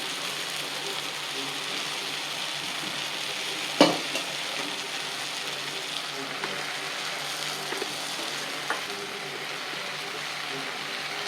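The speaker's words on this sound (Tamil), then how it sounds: "இப்போ இதெல்லாம் நல்லா திருப்பி விட்டுக்கணும்" Potato masala kurma is stirred in a pan for a side dish to poori, giving a steady close sizzle and scraping with one sharp knock partway through.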